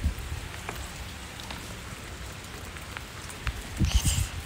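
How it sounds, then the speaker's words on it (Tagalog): Steady rain falls on a surface with a dense continuous hiss and scattered individual drop patters, growing slightly louder near the end, with no voices. "Pertigid ang ulan bala. Oh my God, ulan."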